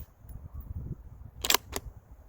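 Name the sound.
gunshot from Thompson Center Compass II .223 bolt-action rifle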